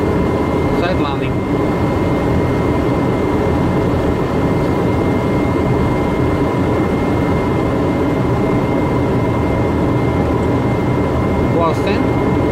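A loud, steady roar of jet engines and rushing air fills an airliner cabin during a crosswind landing at Boston, with a few faint clicks over the constant drone.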